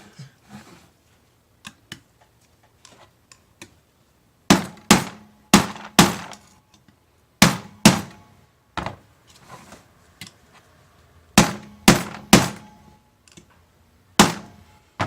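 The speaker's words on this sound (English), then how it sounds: "I can see as I'm whacking it, it's sucking up the snap ring here." A snap ring is hammered into a 68RFE transmission clutch retainer during a rebuild: a series of sharp, loud metallic strikes, some in quick pairs or triplets, with quieter taps and pauses between, close up.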